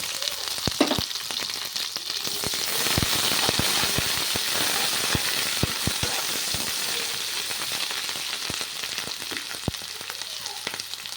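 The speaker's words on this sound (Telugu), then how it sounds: "అల్లం వెల్లి పేస్ట్ బాగా వేగాలండి" Ginger garlic paste frying with onions in a pan for egg biryani, a steady loud sizzle with crackling pops scattered throughout.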